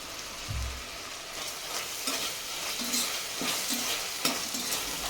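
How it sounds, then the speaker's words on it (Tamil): Large tomato sautéed with rock salt in a pan for beetroot biryani, a soft continuous sizzle with occasional scraping stirs and light clinks, close and fairly quiet. "இப்போ இது கூடவே கல்லுப்பு கொஞ்சமாக சேர்த்து வதக்கி விட்டுக்கலாம்"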